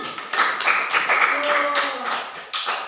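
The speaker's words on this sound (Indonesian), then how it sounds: "Tepuk tangan." A classroom group bursts into quick, dense applause, many hands clapping at once nearby, with voices mixed in.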